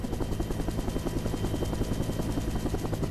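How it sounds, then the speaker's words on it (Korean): Loud, steady rotor and engine roar fills the cabin of a military helicopter climbing to altitude before a high-altitude infiltration jump, with a rapid pulsing beat running throughout and no talk. "헬기 소음 때문에 의사소통도 어렵다"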